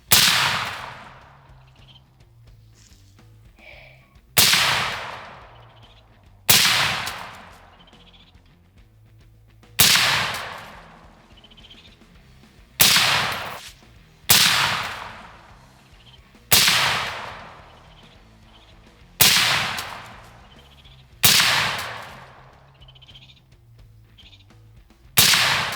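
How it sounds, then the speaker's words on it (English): A VKTR VK-1 11.5-inch piston rifle fires 55 grain VMAX rounds in a string of about ten sharp, loud shots spaced a couple of seconds apart, each cracking report decaying quickly into quiet between. "I'm gonna shoot some VMAX at that now, because VMAX is gonna be my defensive load"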